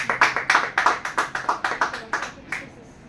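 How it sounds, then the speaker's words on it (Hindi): A church congregation claps in a quick, steady rhythm at a Sunday service, a dozen close, loud beats that slow and fade out near the end. "आइए हम जोरदार ताली बजाएं परमेश्वर के वचन के लिए"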